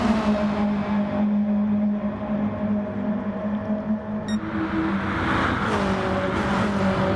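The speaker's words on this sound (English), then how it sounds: "It's Death Proof right in his slipstream, probably make a move into the hairpin" Race cars in a racing video game, one running in another's slipstream before a hairpin, give a steady engine drone with shifting pitch as they pass, loud and close throughout.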